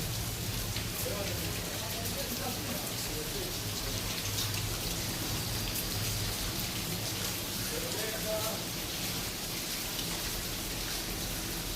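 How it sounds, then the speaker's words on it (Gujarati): Steady rain falls throughout, a constant hiss of drops on surfaces, with faint voices now and then. "સવારનો વરસાદ ચાલુ જ છે."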